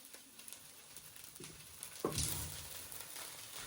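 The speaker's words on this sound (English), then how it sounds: "Then with your tongs, you just want to give all that a good stir." Singapore vermicelli with splashes of soy sauce sizzles in a pan while tongs stir it, giving a soft continuous frying crackle with a louder scraping toss partway through, close up and without talk.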